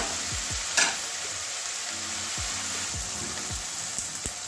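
Sliced onions sizzle in hot oil in a pan for a soybean curry with okra and potato, a steady close frying hiss broken by repeated scraping strokes of a spatula and one sharp clink.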